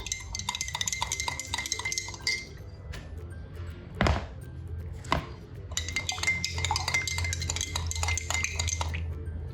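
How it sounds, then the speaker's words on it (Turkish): A utensil stirs sauce for a buckwheat salad in a bowl, giving rapid rhythmic scraping and clinking in two long bursts, separated by a couple of louder knocks against the dish. "Sosu iyice karıştıralım."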